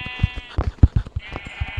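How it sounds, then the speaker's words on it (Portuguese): A brown sheep bleats in Minecraft PE, a short wavering baa close and loud over a background of game music and repeated soft footstep thuds. "Uma ovelha marrom. Nunca vi essa tal de ovelha marrom"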